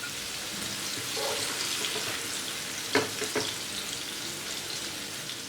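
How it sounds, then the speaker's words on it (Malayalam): Paneer fries in a pan over a medium flame, giving a steady close sizzle and crackle with a couple of brief scraping stirs and no talk. "പനീർ ഇട്ടതിന് ശേഷം സ്റ്റവ് ഒരു മീഡിയം ഫ്ലെയിമിൽ വെച്ച് 2-3 മിനിറ്റ് ഫ്രൈ ചെയ്തെടുക്കണം."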